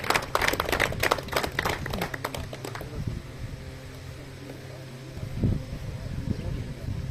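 A burst of crowd clapping at a pigeon flying tournament prize ceremony in Barnala, with cash prizes and trophies, dense for about three seconds and then fading out beneath an announcer's voice and background chatter.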